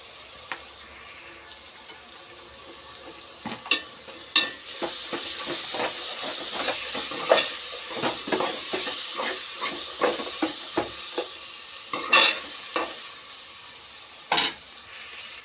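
Turmeric and a spoonful of ginger garlic paste fry in hot oil in a pan for crab curry, giving a steady loud sizzle and hiss with intermittent stirring scrapes and clicks.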